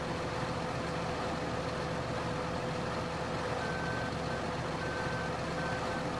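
Steady electronic reversing beeps from a tractor in Farming Simulator 2013 sound in evenly spaced pulses over a constant engine drone, with no talking.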